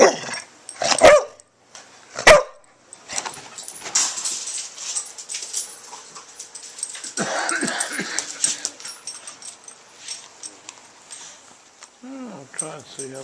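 A big dog barks in a few sharp bursts near the start, then whimpers and whines faintly amid household noise while a person talks nearby.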